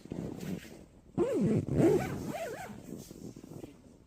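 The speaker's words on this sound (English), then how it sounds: "zipping up" A sleeping bag zipper is pulled up inside a bivvy in woodland at dusk, making two or three close, loud rasping strokes in a row, with softer rustling of fabric before and after.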